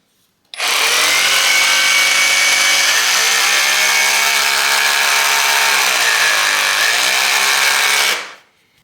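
A Parkside PKHAP 20V cordless hammer drill runs loud and close in one continuous whine of about seven seconds, with its pitch dipping slightly as the speed changes before it spins down.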